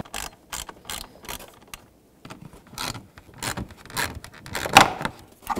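Screws being driven into the grille of a Chevy Equinox, short ratcheting clicks in separate bursts with quiet gaps between, close and fairly soft.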